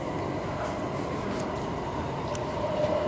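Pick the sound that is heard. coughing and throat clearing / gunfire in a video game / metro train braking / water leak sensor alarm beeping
metro train braking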